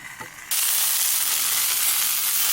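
Sausage and peppers with quartered onions sizzle in a pan on a camp stove, opening with a faint tap before a loud, steady frying hiss suddenly takes over and fills the rest at close range.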